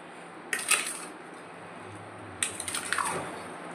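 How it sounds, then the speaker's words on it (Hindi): A spoon scrapes and clinks against a metal vessel while coarse spice mix is stirred into mango pickle, two short bursts of gritty scraping separated by a quiet pause, close and fairly faint. "इसे अच्छे से मिक्स करेंगे।"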